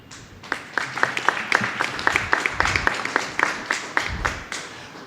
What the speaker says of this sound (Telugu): అర్థమైతే చప్పట్లు కొట్టండి.